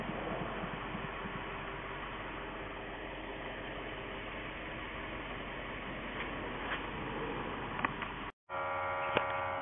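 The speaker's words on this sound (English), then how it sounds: "I've got the smoke machine hooked to the boost box." Smoke machine hooked to the boost box, running during an EVAP leak test on a 2014 VW Tiguan: a steady, close hum with broadband hiss that carries on unbroken, then cuts out briefly near the end before resuming.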